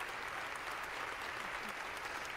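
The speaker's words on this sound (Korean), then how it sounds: "기립박수 오래 치고 있네요" A chamber audience gives Nancy Pelosi a long standing ovation after she announces she is stepping down from Democratic leadership. The applause is a dense, continuous roar of many hands, heard faint and distant throughout.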